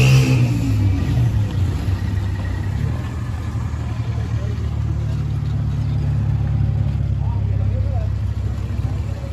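A vehicle's engine rumbles steadily at close range as it reverses, a low even drone that holds without revving, while people shout directions over it.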